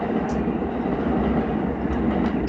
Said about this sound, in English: Can you hear the train when it passes by?